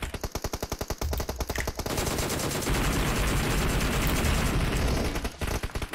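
Rapid automatic gunfire in a multiplayer shooter video game, loud and close, with sustained bursts of rounds and rolling impacts filling the whole stretch, no talk over it.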